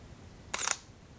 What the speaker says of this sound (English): let me try to go ahead and take a picture, and you can hear the shutter on this.